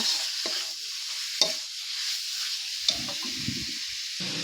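Pieces of free-range chicken sizzle gently in a hot pan while a utensil scrapes and stirs, with a few light clinks against the pan.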